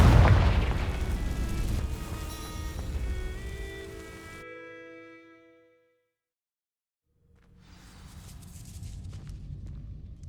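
A loud Confringo spell explosion in Hogwarts Legacy booms and rumbles, then decays into ringing tones and falls silent before a softer rumbling ambience returns.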